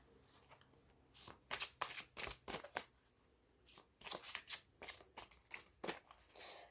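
Oracle cards of shadow and light beings being shuffled by hand, giving repeated soft riffling bursts in two clusters with short pauses, close and fairly quiet, with no talking.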